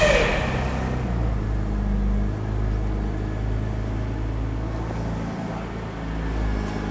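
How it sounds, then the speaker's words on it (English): A Porsche Boxster engine on a budget project car fires up and settles into a smooth, steady idle, a close and even low rumble with no stumbles. "Doesn't sound like a misfire to me, sounds nice and smooth."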